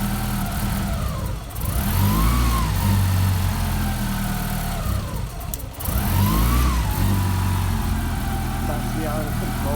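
Lancia Integrale Evo1 engine idling after a cold start, a steady low rumble with two brief dips and recoveries in revs, close and loud throughout.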